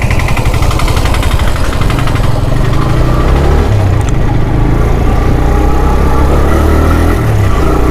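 A small, old motorbike engine runs loud and close on a ride in Hyderabad, a steady rough buzzing drone that holds for several seconds with no talk.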